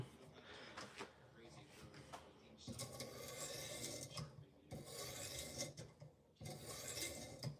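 A knife is drawn across PDT sharpening stones in repeated quiet, rasping strokes that come in bursts separated by short pauses, with faint talk in between.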